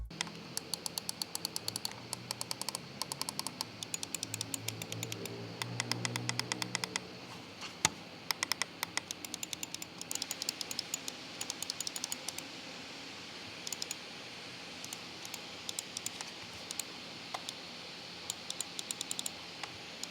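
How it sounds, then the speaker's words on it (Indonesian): Logitech G603 wireless gaming mouse buttons clicked repeatedly, close, crisp ticking clicks in quick irregular bursts across the whole stretch, with a faint rustle underneath and no voices. "Ini merupakan contoh suara yang dihasilkan dari tombol-tombol yang ada di semua tombol-tombol di mouse Logitech G603 Wireless Gaming Mouse"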